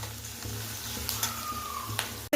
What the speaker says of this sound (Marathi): लसूण व्यवस्थित परतलं इथं